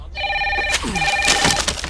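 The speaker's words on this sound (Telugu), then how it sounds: "కృష్ణ, నీకే బాబు ఫోన్." A telephone rings in a shop with a steady electronic trill, loud and close, in a single burst of about a second, followed by a short noisy pause.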